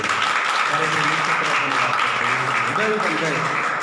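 A church congregation claps together during a Punjabi Hallelujah sermon, a steady dense wash of applause that fills the whole stretch, with voices and tonal sounds carrying through it.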